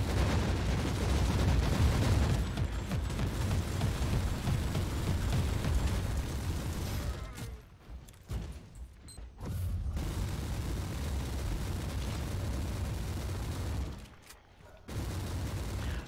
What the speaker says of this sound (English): you just keep throwing those goddamn bombs